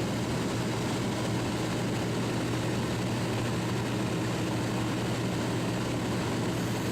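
Steady, loud drone of a light propeller aircraft in flight between Gap and Avignon, heard from inside the cabin as a continuous engine hum with no pauses.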